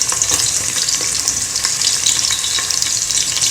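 Onion frying in hot oil in a pressure cooker, a steady dense sizzle and crackle with small pops throughout, close and fairly loud, no voices.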